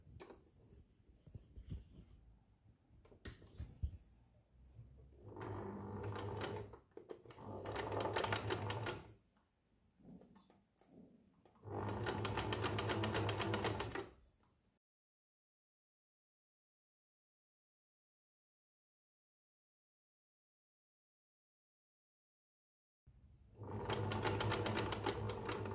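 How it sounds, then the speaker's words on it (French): A sewing machine topstitches along the edge of a dress's drawstring casing, running in several bursts of steady mechanical stitching separated by short pauses and a long silent gap, close and fairly loud with no talk. "j'ai plus qu'à suivre le bord de ma coulisse avec le milieu de mon pied presseur pour être sûr d'aller bien droit"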